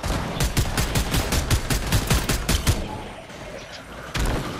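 Rapid automatic gunfire in a Red vs Blue video game, a dense burst of evenly spaced shots for nearly three seconds, then a pause and a final loud shot near the end.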